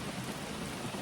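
Steady rain pours down outdoors during grass mowing work, a dense, even hiss of drops on surfaces with no voices, close and continuous throughout.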